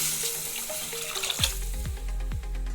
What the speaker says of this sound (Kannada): 2 ಗ್ಲಾಸ್ ನೀರು ಹಾಕ್ತಾಯಿದ್ದೀನಿ